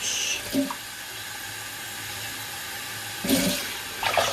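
Tap water runs steadily into a kettle in a home kitchen, a continuous close hiss with brief louder splashes near the start and again toward the end.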